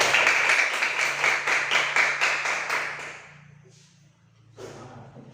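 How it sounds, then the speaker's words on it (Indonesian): Fifth-grade pupils in a classroom clap together in a quick, rhythmic group pattern for about three seconds. The clapping then stops, leaving a quieter room with a brief shuffle. "Tepuk tangan dulu untuk semua siswa kelas 5"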